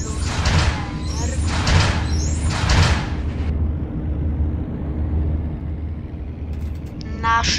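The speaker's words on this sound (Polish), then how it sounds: "Zamykamy drzwi." Roblox bus doors slide shut in three hissing pneumatic bursts, followed by a steady low engine idle and a short chime near the end.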